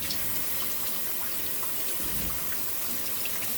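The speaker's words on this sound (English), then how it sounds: "So let me rinse off my hands." A kitchen tap runs steadily as hands are rinsed under it, giving a close, constant splashing rush with small irregular spatters throughout.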